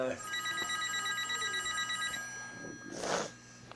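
A telephone bell rings in quick repeated trilling bursts, fairly loud and close, then stops and gives way to a short spoken voice.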